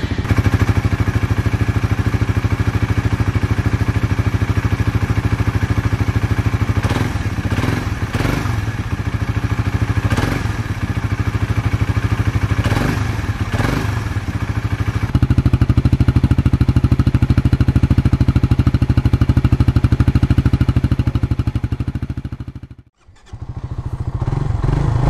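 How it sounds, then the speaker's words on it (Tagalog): A 2022 Suzuki Raider 150 Fi motorcycle engine running at a steady idle, a loud, close, continuous drone with a few revving rises partway through and a brief dip near the end. "Sound check naman tayo sa motor na ito mga idol."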